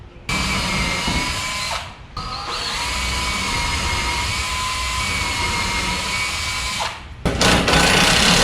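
An impact driver tightens a bolt on post-rack shelving in a pole barn. It gives two long, loud, continuous bursts of whirring hammering, split by a brief pause, then a short final burst.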